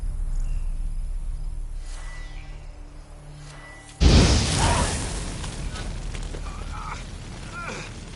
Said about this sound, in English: Now for a shot of Igni.